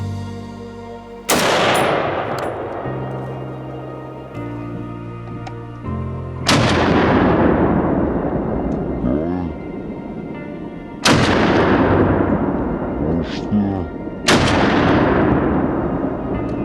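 Rifle shots ring out during a driven wild boar and mouflon hunt in Austria: four loud, sharp blasts spaced several seconds apart, each with a long echoing decay across open ground.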